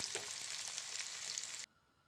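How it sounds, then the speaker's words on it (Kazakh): Onions sizzling and frying in hot oil in a pan while a homemade dish is cooked, a loud steady crackle that runs without a break and then cuts off sharply near the end. "Және шымшық майымызды құйып, бетіне жуасын салып қызартып аламыз"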